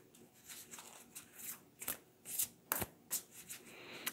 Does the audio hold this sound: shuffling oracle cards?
yes